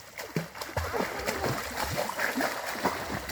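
Water splashes and churns in a pond as someone jumps in while others swim, with several splashy bursts close by and a voice talking over the sloshing.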